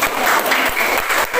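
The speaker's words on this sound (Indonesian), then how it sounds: "Ya, kita kasih aplaus." A classroom audience claps together in a dense, loud burst of applause with no voices over it.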